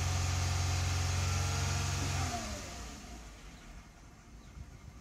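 A 2005-2012 Toyota Avalon engine being held at high revs, then dropping to idle partway through; the loud, steady mechanical drone falls away into a quieter, even idle.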